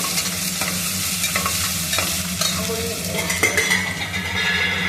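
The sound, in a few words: cashews and ginger paste frying and being stirred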